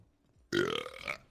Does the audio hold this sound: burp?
yes